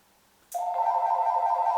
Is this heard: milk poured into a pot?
no